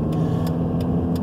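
Steady car engine and road rumble from inside a vehicle on an interstate exit ramp, a continuous low drone with faint periodic ticks.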